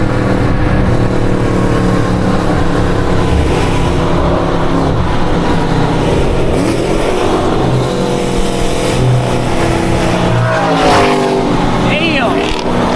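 Loud, continuous engine roar from cars racing, including a Ford 5.0, with revving and shifting pitch throughout, heard from inside a vehicle while people talk over the noise.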